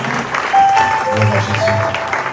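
Church congregation applauding during a worship service, a steady dense wash of clapping filling the room, loud and close throughout.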